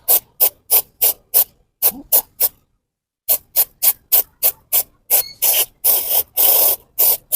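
Close, sharp hisses of a spray bottle of air flow sensor cleaner pumped in quick regular bursts on a 2015 Isuzu D-Max 2.5, a short pause, then more squirts stretching into longer sprays.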